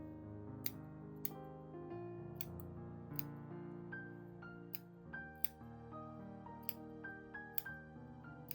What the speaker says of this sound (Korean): 직선처럼 보이는 부분마다 이렇게 가위밥을 줍니다